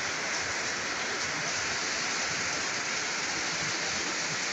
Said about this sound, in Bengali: এমন বৃষ্টি আমি আগে কখনো দেখি না রে ভাই